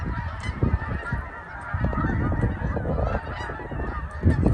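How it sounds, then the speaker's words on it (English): Large flock of migrating geese honking at sunset, many overlapping calls at moderate distance forming a continuous chattering chorus with no talk. "That massive flock of geese is coming this way."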